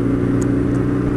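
A 2019 BMW R nineT Scrambler's air-cooled boxer engine runs with a steady, close, low rumbling drone, its even pulsing throb continuing throughout with no talk over it.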